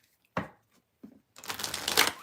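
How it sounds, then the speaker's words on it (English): Tarot cards shuffled by hand: a short riffle or tap, a second softer one, then a longer, louder run of rapid papery shuffling, close and alone with no talk. "I'm going to shuffle"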